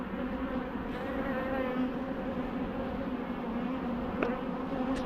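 Calm honey bees hum steadily at the hive, a dense, continuous buzzing close to the listener with a faint passing flyby near the end, no voices present.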